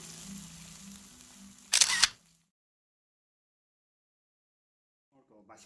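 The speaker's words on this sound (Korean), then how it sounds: "일단 사진 촬영부터 하고" A single camera shutter click sounds sharply over a faint background hum while food is photographed for a drawing, followed by near silence.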